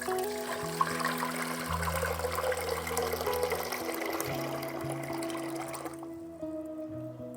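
Liquid pours steadily into an empty cooking pot at an all-electric campsite, a continuous splashing trickle that shifts in pitch as it fills, then stops near the end, leaving a low hum.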